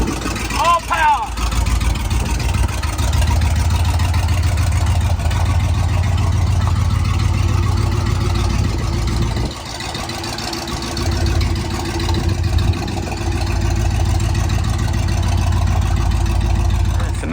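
An old truck engine, freshly fired up, runs steadily at a low idle, a loud continuous rumble with a brief dip partway through and some voices talking nearby.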